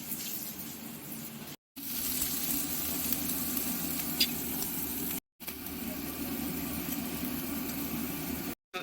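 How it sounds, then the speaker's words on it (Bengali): Small eggplant pieces frying together in hot oil, giving a steady, even sizzle that runs in long stretches between brief silent cuts. A faint background hum sits under it, and no one speaks. "বেগুনগুলো ছোট করে কেটে তেলে একসঙ্গে ভেজে নেওয়া হচ্ছে"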